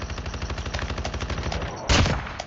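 Rapid automatic gunfire in a video game, a fast even stream of close shots followed by a heavier blast near the end.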